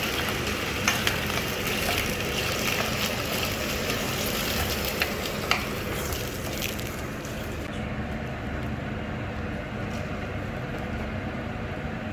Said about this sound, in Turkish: pirincimizi atıyoruz. güzelce yakmadan karıştırıyoruz.